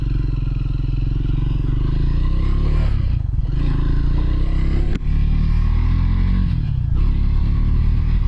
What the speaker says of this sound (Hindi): तो अब हम चलाने जा रहे हैं बाइक को। ये लिया हमने सेल्फ।